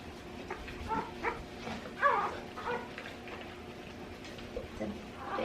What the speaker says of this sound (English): We got our first puppy.